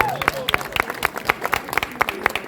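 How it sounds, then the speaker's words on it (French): Guests at the opening ceremony of a medical equipment centre in Brussels clap in a loose, moderately sized round of applause, distinct individual claps close by over a low murmur of voices. "On peut l'applaudir très fort"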